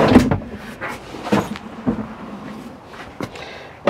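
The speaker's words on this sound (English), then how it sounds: "I'm gonna have to slide it forward just a hair" An RV front seat in a 2013 Forest River Solera 24R being slid forward, with several sharp clunks and clicks of the seat mechanism spaced irregularly, close by and fairly loud.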